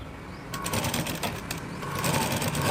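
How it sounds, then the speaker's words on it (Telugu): A sewing machine top-stitches a blouse seam onto scrap cloth, its fast mechanical whirr starting after a short pause and running steadily at close range. "నెక్స్ట్ టాప్ స్టిచ్ చేయండి వేస్ట్ క్లాత్ మీద పడేటట్టు"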